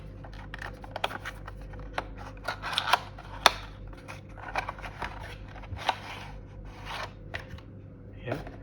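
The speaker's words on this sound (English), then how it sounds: "Now let's unpack this device. It comes in a very small box." A small box holding a MiraBox wireless CarPlay adapter is opened by hand, with light rustles, taps and sharp cardboard clicks scattered over a quiet background, and someone talking at times.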